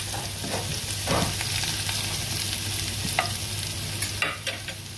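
Tilapia with ginger frying in a pan and being stirred, giving a continuous sizzle with spatula scrapes and light clinks, no voices.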